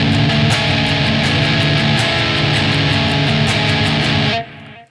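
A noisy, heavily distorted electric guitar chord on the lower strings, with the 6th, 5th and 4th strings and an open 3rd, played in shoegaze style. It is loud and dense with a steady, pulsing shimmer, sustains about four seconds, then cuts off.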